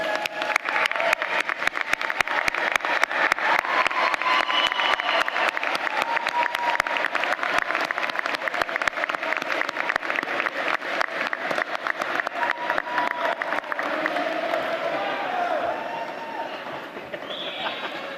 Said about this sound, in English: and applaud for all those who have encouraged you and supported you along the way.